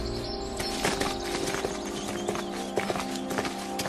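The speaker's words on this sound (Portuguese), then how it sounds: "O cavalo é montado por 6 horas" A ridden horse's hooves clip-clop in a steady, close rhythm with a few sharper strikes, over a busy background and with no talking.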